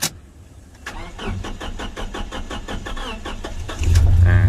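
Toyota Vigo Smart Cab started with a key: a rapid rhythmic cranking chatter runs for about three seconds, then the engine catches and settles into a louder steady idle, close by.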